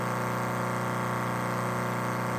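A Chevy fuel pump runs with a continuous, even pumping drone that holds steady and fairly loud throughout, with no talk and no breaks.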